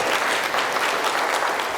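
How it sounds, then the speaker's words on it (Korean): An audience in a Korean lecture hall on May 18 democracy history applauds for a museum director, a steady, dense burst of clapping filling the whole moment with no voices over it. "관장님 우리 박수 한번 쳐드립시다."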